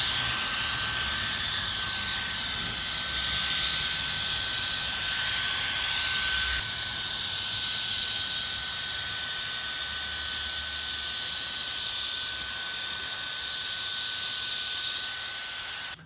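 An electric air duster blows dust across its power settings, making a loud, close, steady whirring jet with a high whine and airy hiss that shifts in tone partway through, no talking.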